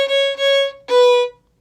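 Fiddle playing the opening notes of the tune Oats and Peas, two sustained bowed tones with a brief gap between them, close and clear with no talking.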